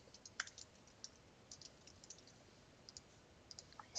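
Light clicks of keys on a computer keyboard, a sparse, irregular run of single taps, quiet and close over faint room hiss.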